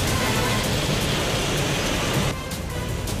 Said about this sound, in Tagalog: patuloy pa rin ang malakas na ulan at hangin dito sa Cagayan de Oro City